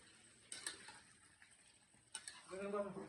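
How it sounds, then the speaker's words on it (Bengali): Cooked meat for biryani being stirred slowly in a pot during a workplace cooking party. Faint, quiet scrapes and a couple of soft clinks are followed by a brief voice at the end. "মাংস হয়ে গেছে, এই তো আস্তে আস্তে নাড়ছি।"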